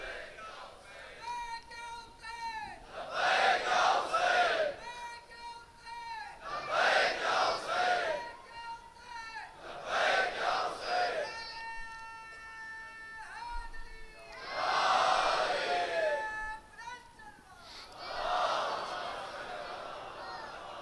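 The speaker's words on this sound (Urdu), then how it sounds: "صلوات بلند آواز پر محمد و آل محمد" A mosque congregation at a Sham-e-Ghareeban majlis recites salawat loudly in unison, several repeated rising bursts of massed voices separated by short pauses, with a single voice leading between them.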